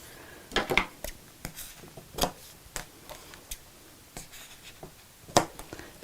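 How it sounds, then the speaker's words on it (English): Scissors cutting ribbon into short lengths for a sewn wall-hanging organiser, heard as a handful of quiet, crisp snips and clicks scattered irregularly, close by with no talking. "The rest of my ribbon, oops, I'll need to cut into 4-inch lengths"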